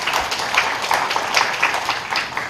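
Guests at a Korean wedding ceremony break into applause after the couple is declared married, a moderately loud, uneven patter of many hands with brief accented claps.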